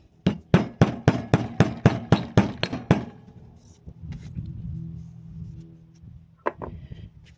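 A hammer strikes a part about ten times in quick, even succession while a Gehl auxiliary pump is rebuilt, loud and close, followed by a low mechanical hum and a final faint tap.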